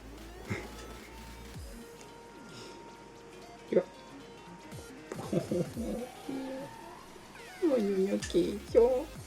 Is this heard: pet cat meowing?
yes